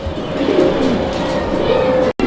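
Pigeons coo loudly and continuously at a pigeon market, a dense layered cooing close by with faint background voices.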